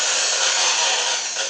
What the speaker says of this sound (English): Got my old Harbor Freight drill.